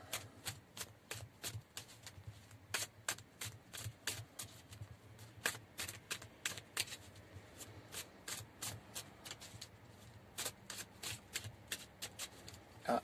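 Oracle cards being shuffled by hand, a run of quick, crisp riffling slaps and rubs, close and quiet, repeated irregularly throughout.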